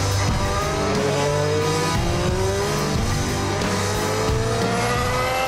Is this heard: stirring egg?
no